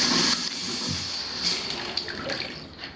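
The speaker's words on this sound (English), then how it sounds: "We're running some hot water." Hot water running from a tap indoors, a steady hiss of flowing water with small clunks and shifts in the stream.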